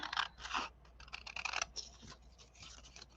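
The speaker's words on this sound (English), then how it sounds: "So here we are trimming our paper" Scissors trimming a sheet of origami paper, several crisp snipping cuts in quick irregular bursts, close and fairly quiet with no talking.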